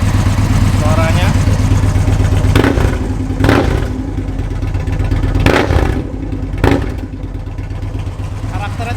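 A Victory Cross Country motorcycle engine idles with a loud, rough, raspy rumble, punctuated by four sharp throttle blips that swell and drop back, heard up close.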